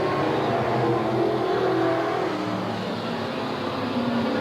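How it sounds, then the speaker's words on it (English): Race cars roar past in a heat race at Willamette Speedway, a dirt oval, in 1989, their engines revving in a steady, loud, continuous drone with no talk over it. "Randy Byers making a mockery out of the first heat race in the C's"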